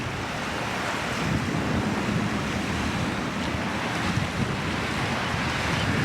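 Ocean surf breaking along the shore at Pismo Beach, a steady broadband wash of waves with wind buffeting the microphone, continuous and fairly close, with no talking.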